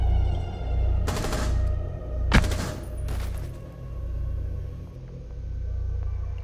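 Automatic gunfire in Rainbow Six Siege during a Park team deathmatch, with three sharp rattling bursts over a steady low game rumble and no talking.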